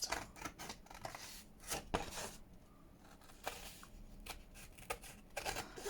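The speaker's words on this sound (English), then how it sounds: "Okay, let's get some scissors out." Scissors snip through paper while pieces are cut out for a junk journal made from packaging and leftovers, giving a run of close, sharp, irregular cuts and rustles with short pauses between them.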